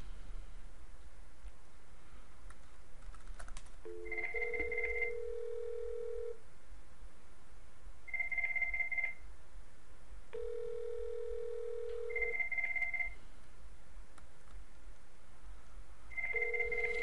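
An outgoing call on an IP softphone produces a repeating electronic ringback: steady two-tone beeps alternating with longer held tones in a regular cycle, clean and moderately loud over a faint background hiss.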